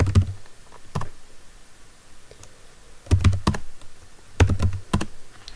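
Keys clatter on a computer keyboard as a username and password are typed at a command-line login, in short bursts of rapid clicks separated by pauses, close and clear with no talking.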